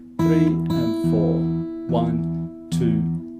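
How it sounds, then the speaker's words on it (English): Fingerpicked acoustic guitar plays a slow exercise, with thumb bass plucks and pinched melody notes ringing out in a few distinct strikes that sustain between attacks. "I'm pinching, but then I'm also playing that melody note in between the pluck of the thumb"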